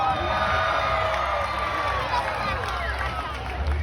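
At an Orange County fair pig race featuring Gloucester Old Spot pigs, a crowd cheers and whoops continuously with children's shouts, moderately loud and sustained.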